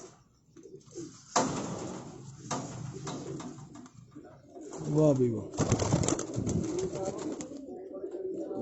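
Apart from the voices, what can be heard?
pigeons cooing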